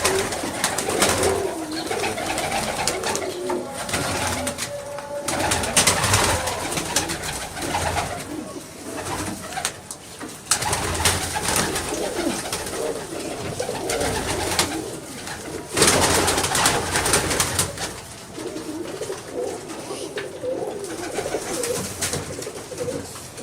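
High-flying pigeons coo repeatedly in low, throaty calls, several young birds overlapping with flutters and rustling, fairly close and steady throughout.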